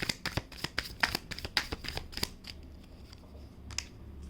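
A deck of tarot cards is shuffled in a quick run of sharp riffling snaps, followed by a few softer single card slides and taps as cards are drawn, close and fairly quiet.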